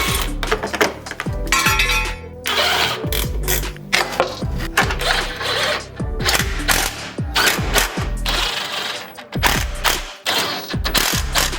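A ratchet clicks close and loud in repeated bursts of rapid pawl ticks, with metallic clinks, as fog lights are bolted onto the bumper of a 1995 Mitsubishi.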